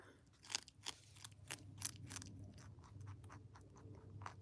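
Someone munches loudly and close up, with crisp crunching bites repeating at an uneven pace, then softer steady chewing carrying on without talk.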